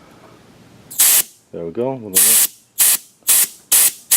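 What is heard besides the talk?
refrigerant hissing out while bleeding a 2001 Ford Excursion's rear AC line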